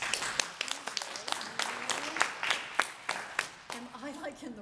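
An audience applauding a teachers' union leader at an NEA and AFT gathering: scattered, uneven claps from part of the room, moderately distant, under a speaking voice.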